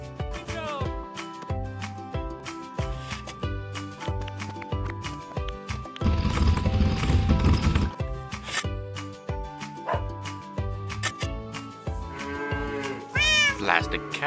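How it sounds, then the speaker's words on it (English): A toy-like cartoon cat meows in the Farm Tycoon farming video game, its short mews popping up over busy, steady game music with a louder dense burst partway through. "Plastic cat, get away from my milk!"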